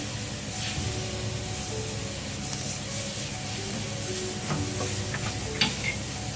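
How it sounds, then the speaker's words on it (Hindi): Chopped garlic sizzles in hot oil in a pan, a steady crackling fry with occasional stirring clicks, close and continuous. "इसे हमें अच्छी तरह से सौते करना है।"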